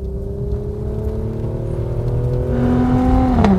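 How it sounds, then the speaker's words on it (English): A Mercedes-AMG C43 Cabriolet engine in Sport Plus mode, revving as it drops a gear, a close, steady muted howl that climbs in pitch and loudness toward the end. "all of those numbers don't tell you how nice this engine sounds"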